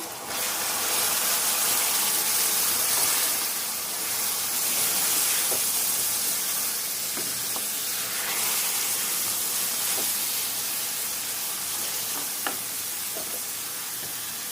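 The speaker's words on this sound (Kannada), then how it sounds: "ಇವಾಗ ಟೊಮೊಟೊ ಸೇರಿಸ್ಕೊತಾ ಇದ್ದೀನಿ." Chopped tomatoes hitting onions already frying in a pan for tomato gojju, with a continuous loud sizzle and hiss, occasional scrapes and light stirring taps, and no voices.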